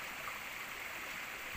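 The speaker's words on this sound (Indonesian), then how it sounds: "Sungai. Yo bener-bener deras loh. Bener-bener deras." A swift, fast-flowing river in flood rushes in a steady broadband roar, continuous and fairly close, with no voices over it.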